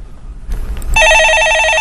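A telephone on a stock-market call-in show signals an incoming call. After a brief rustle, a loud, close electronic ring starts and repeats in a fast, even warble with no voices over it.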